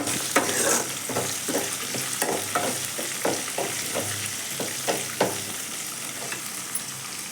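Onion and garlic sauté in hot oil for a Catla fish curry, a continuous sizzle punctuated by a regular series of spoon scrapes and taps against the pan, close and unaccompanied by speech.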